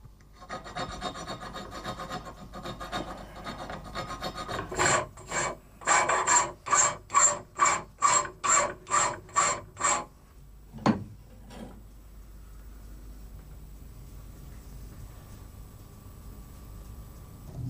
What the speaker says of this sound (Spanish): el cuchillero utiliza la bigornia o pequeño yunque junto a un surtido de finas herramientas y limas de distintos cortes